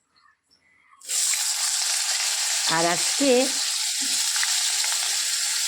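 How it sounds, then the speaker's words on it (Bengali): Potatoes hit hot oil in a home kitchen and set off a loud, steady sizzle that fills the clip from about one second on, with brief speech over it. "এবার চলো আলু ভাজা বসিয়ে দিই।"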